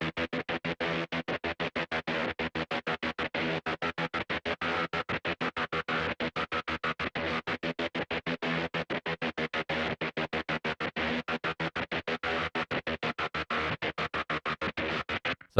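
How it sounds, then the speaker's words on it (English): Free synth plugin glitch effect for a Doom-style metal sound: a rapid, steady stutter of chopped tonal bursts, continuous and fairly loud throughout with no voices. "The background element, giving that sort of glitch effect,"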